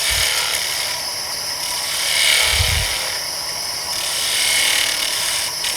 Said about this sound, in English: Speed things up plenty, and I'll start with my spindle gouge and light cuts.